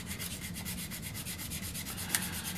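Quick, even back-and-forth scraping of a small sanding stick rubbing a scale model, close and fairly quiet, with no talking.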